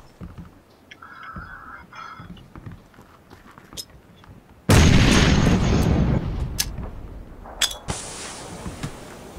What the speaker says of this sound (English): I'm throwing a grenade in.